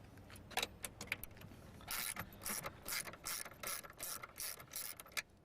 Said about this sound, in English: Undo these 3 bolts here, and then the mirror will just come straight off